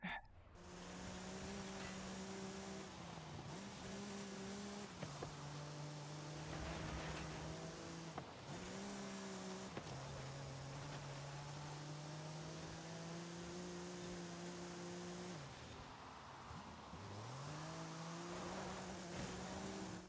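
Racing-game car engine, an Audi Quattro or Opel Manta in Forza Horizon 5, droning steadily with repeated rises and drops in pitch as gears shift, continuous and fairly close.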